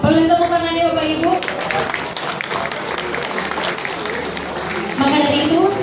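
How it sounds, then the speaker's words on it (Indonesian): An audience claps during an employee long-service award ceremony at a company anniversary celebration, a steady wash of applause with a master of ceremonies speaking over the start and end. "Boleh tepuk tangannya Bapak Ibu?"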